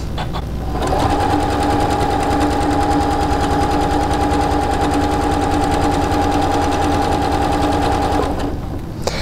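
A sewing machine stitches quilt fabric as a border goes onto a quilt, running in a steady, loud, continuous whir of fast needle strokes for about eight seconds before stopping, with no talking.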